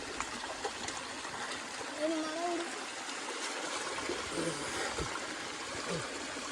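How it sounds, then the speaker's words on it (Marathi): A small waterfall pours in a steady, broad rush of water, with faint splashes and brief voices in the background. "छोटासा वॉटरफॉल"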